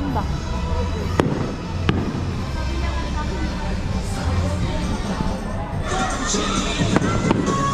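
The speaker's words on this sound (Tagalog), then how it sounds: "Ganda ng fireworks." Fireworks bursting outdoors at a crowded evening event, with sharp cracks and booms over a steady roar of crowd noise and nearby voices talking throughout.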